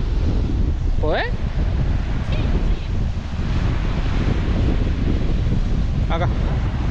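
Cold wind gusts steadily across the microphone outdoors near water at an abandoned estancia in Ushuaia, a broad continuous roar with brief chirps on top and no talking.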